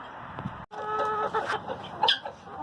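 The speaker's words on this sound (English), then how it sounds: "Just feeding these chickens" Chickens cluck and chatter close by in short, uneven bursts, with a few higher squawks near the end.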